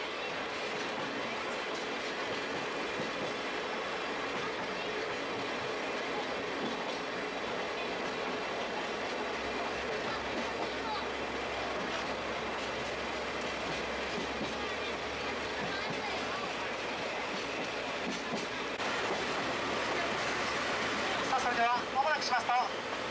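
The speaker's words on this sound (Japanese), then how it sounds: "列車は赤い鉄橋の下を通過していきます" A sightseeing trolley train runs beside a river in Kyoto during autumn foliage season. It makes a steady, loud rumble of wheels and carriages throughout, with some rattling and squeal near the end.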